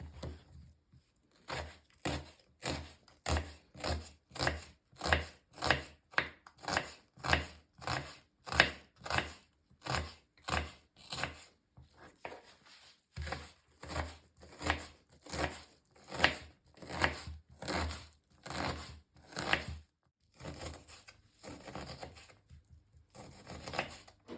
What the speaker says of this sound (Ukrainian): Я зараз буду нарізати дуже дрібненько цибульку